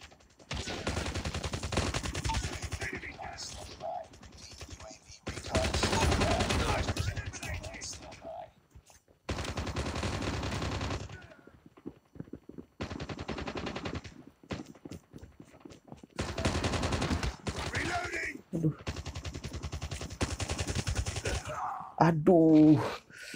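Bursts of rapid gunfire from the mobile shooter game Call of Duty Mobile come in several loud, dense stretches separated by brief quieter gaps, with a player's voice talking in between.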